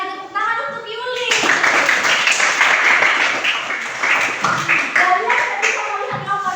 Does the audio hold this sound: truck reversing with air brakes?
no